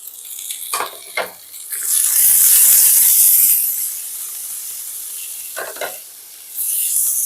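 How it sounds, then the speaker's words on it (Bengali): Grated ginger and slit green chillies frying in a pan, a loud close sizzle and hiss with stirring clatters at the start and end, no talk. "1 চামচ গ্রেট করে রাখা আদা আর 3টে চেরা কাঁচা লঙ্কা দিয়ে দিলাম"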